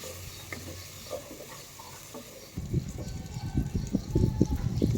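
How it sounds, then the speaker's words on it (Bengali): A spice masala of turmeric, cumin and chilli powder paste is fried and stirred in a pan for mutton. A soft sizzle comes first, then louder, close scraping and stirring strokes join it. "তারপর মশলাটা আর একবার ভালো করে ভুনে নেব"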